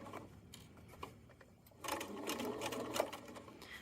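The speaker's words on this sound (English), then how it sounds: "we'll be sewing here 1/8 inch seam allowance all the way around" A domestic sewing machine topstitching the bottom seam of a fabric fanny pack with a 1/8 inch allowance, a quiet rapid whirring stitch that starts softly and grows louder, close and alone.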